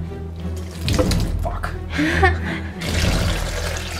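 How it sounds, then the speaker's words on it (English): Water pours from a tap into a container holding mass gainer powder, a splashing, gurgling stream that rises and shifts across a few seconds, with a brief exclamation from a voice. "4 cups of water going in."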